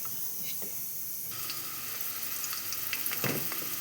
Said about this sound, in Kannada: ಇವು ಈರುಳ್ಳಿ ಎಲ್ಲ ಫ್ರೈ ಮಾಡಿ